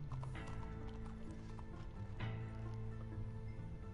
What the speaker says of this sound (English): You can't call your horse yet?